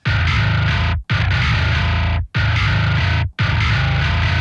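A heavily distorted bass guitar, with a scooped tone, plays loud sustained notes in four repeated phrases, each cut by a brief silence.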